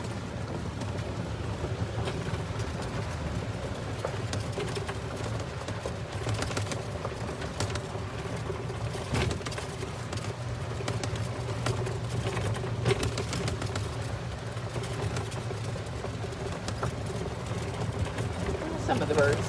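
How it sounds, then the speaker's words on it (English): Birds calling outdoors at a big cat sanctuary, faint scattered chirps and coos over steady wind noise and a low rumble, distant and soft throughout. "Some of the birds stayed."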